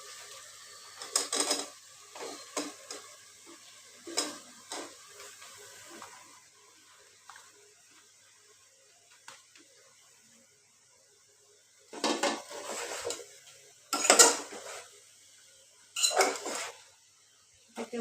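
Flat beans (shim) sautéed in a pan for a fish curry, with intermittent bursts of stirring scrapes and soft sizzle separated by quieter gaps, moderately close.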